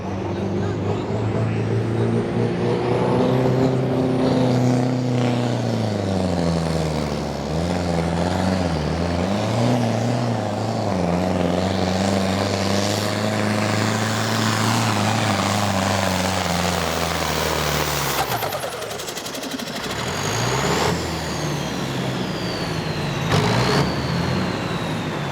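An International farm tractor roars at a tractor pull, a loud sustained engine drone that rises and falls in pitch as it pulls, then fades near the end.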